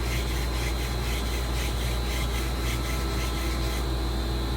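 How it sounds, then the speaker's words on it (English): Sandpaper rubs back and forth against wood while fitting the ramrod of a Kibler Woodsrunner flintlock rifle, a continuous rasping scratch with a faint rhythmic pulse, close and steady throughout. "So you can use a piece of sandpaper like this."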